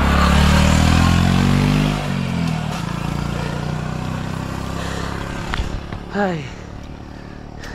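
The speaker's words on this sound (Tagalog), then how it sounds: "Maririnig din tunog ng mga sasakyan. May suli motorsiklo." Motorcycles and cars climb a steep uphill road, a loud engine pass dominating the opening seconds and then fading into a steadier traffic rumble, with a man's brief exclamation near the end.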